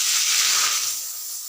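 Milk poured into hot ghee with cardamom hisses and sizzles sharply, a bright steamy rush that fades slightly over a second and a half, close up with no voices.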